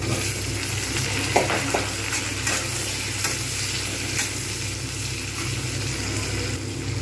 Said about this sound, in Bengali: এইবার আমি এর মধ্যে দিয়ে দেবো টমেটো